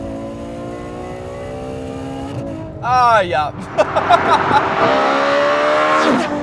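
A 2017 Ferrari F12 V12 in race mode screams up sharply to 8,500 RPM with chirping wheel spin as the car launches, loud and close, following a brief spoken exclamation.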